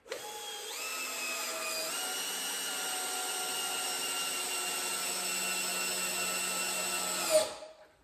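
A Bosch power drill runs alone for about seven seconds, with a high whine that steps up in pitch as it gets going, then holds steady before cutting off with a brief clunk.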